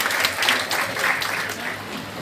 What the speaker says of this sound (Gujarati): તમારી તાળીઓના સુર વચ્ચે